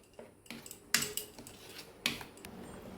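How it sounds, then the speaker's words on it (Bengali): Spice paste with a little sugar and oil being mixed onto fish by hand for a steamed dish wrapped in Malabar spinach leaves, giving soft squelching and light clinks of a dish, with a few sharper knocks, fairly close and quiet. "মশলাটা আমি এবারে মাখিয়ে নিচ্ছি।"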